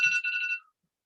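A phone rings once, a short bright electronic tone lasting about half a second before stopping, fairly close, alone with no talk.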